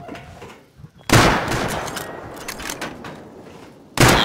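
Gunfire in the survival video game Rust, with two loud bursts of shots and impacts. The first runs for several seconds and the second starts abruptly at the end, after a quieter stretch with faint talk.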